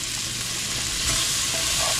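Onion and garlic gravy sizzling in a pan while being stirred and fried for Nepali thukpa, a continuous close crackling sizzle with faint scraping of the stirring, no talking.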